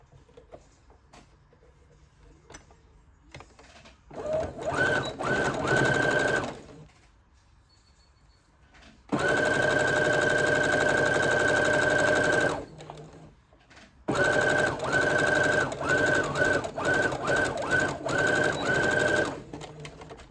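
A sewing machine stitches fabric for a small puffy bow keychain, running in three loud, steady bursts of rapid mechanical whirring separated by brief quiet pauses, with faint handling clicks in between.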